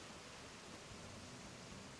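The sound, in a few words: ocean and waterfall sounds in Animal Crossing video game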